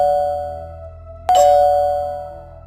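A steady electronic hum, then a single clear bell strike that rings loudly and fades slowly.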